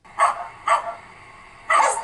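Several dog barks, two short ones close together and then a longer one after a pause, fairly loud and near with no talk over them.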